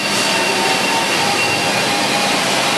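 A Kitamura HX400IA machining center with a 20,000 RPM spindle and a 40+1 tool changer runs steadily, giving a loud, continuous broadband whir and hiss with a few faint tonal whines and no break over the whole stretch.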